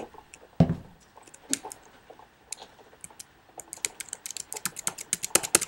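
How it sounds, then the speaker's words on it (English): Clicks and taps on a laptop, close and crisp: a loud knock early, then scattered light clicks growing into a quick, irregular run of clicks at the end, with no voices. "I'm basically clicking on everything"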